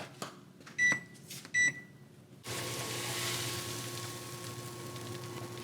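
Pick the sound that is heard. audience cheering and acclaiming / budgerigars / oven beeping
oven beeping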